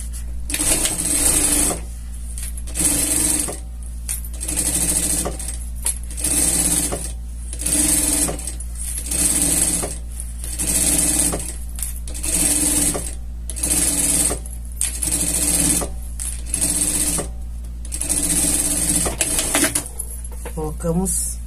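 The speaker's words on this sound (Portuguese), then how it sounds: "Vamos passar uma costura aqui ao redor," A sewing machine runs a seam around fabric for a scout costume, a close steady whirring stitch that comes in regular bursts of one to two seconds with brief pauses between them, under a low hum.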